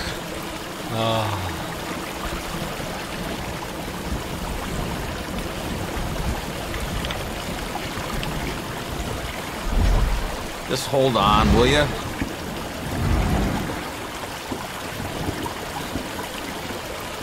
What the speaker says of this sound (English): Why is the water so loud all of a sudden?